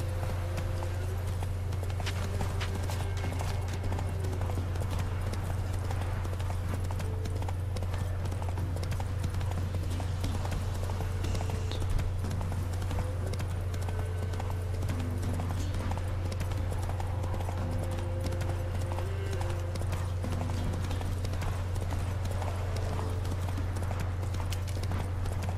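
The horse Roach gallops in the video game Witcher 3, its hooves clip-clopping in a steady rhythm under a constant low drone. The beat carries on without a pause.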